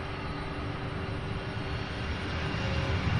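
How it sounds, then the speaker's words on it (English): A freighter aircraft at Louisville SDF airport, a faint, steady distant jet engine roar that swells slightly near the end. "Legion Maniac, I believe this is your freighter, buddy."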